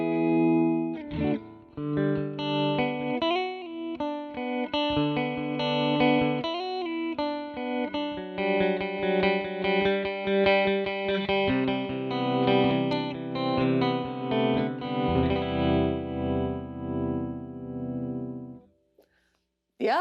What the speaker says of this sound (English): Go with Slow Leslie.